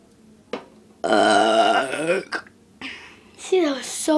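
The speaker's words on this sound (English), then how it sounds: "I'm gonna try an even smaller burp." A small human burp followed by more burps and throat noises, close and loud, with short bursts separated by brief pauses.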